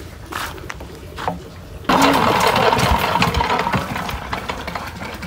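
A water pump engine in a village starts abruptly after a few faint knocks and clatters, then settles into a loud, continuous chugging run close by.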